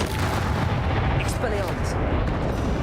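A fiery Confringo spell blast from the Hogwarts Legacy video game booms in dense, rumbling bursts, with a voice calling out over the explosions.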